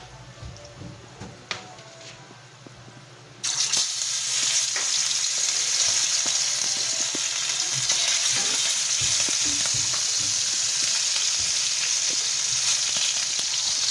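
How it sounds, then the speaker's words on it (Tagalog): Fish dropped into hot oil bursts into loud, continuous frying after a few seconds of quieter kitchen handling noises, the crackling sizzle holding steady and close to the end. "Sunod po natin piprituin ng ating mga isda."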